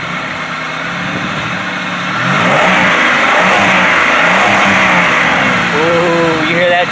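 A 2005 Pontiac Bonneville engine, freshly fitted with 2006 Grand Prix Series 3 heads and bigger valves, revs up hard midway and holds a loud, rising roar before settling, with a voice briefly heard over it.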